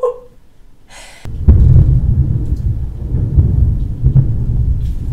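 Deep thunder from a thunderstorm rolls in abruptly and keeps rumbling low and loud for several seconds, heard alone after a short quiet moment.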